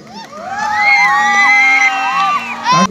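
A stage show audience in Ghazipur cheers and shouts, high whoops and yells rising quickly to a loud, sustained roar before cutting off abruptly.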